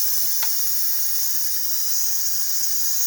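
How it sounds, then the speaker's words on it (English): Steam hisses steadily from the turned release valve of a cooker making lima bean soup with yams, a loud, constant high-pitched rush that holds throughout with a brief click near the start. "up here is where the steam will release, and all you do is turn it, and you can hear the steam."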